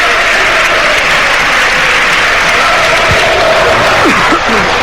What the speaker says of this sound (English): there's applause first of all for Joel Pirro